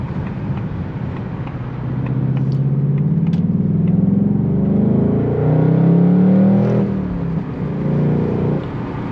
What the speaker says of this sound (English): Let's go ahead and merge onto the highway here, show you guys how it sounds merging on.